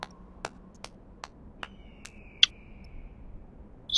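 A clap emote in World of Warcraft plays as a string of sharp, quiet hand claps at a steady pace, with a faint chime-like tone partway through over an otherwise quiet background.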